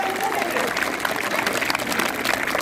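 A group claps together at a quiz competition in a dense, steady burst of applause lasting a few seconds, fairly close.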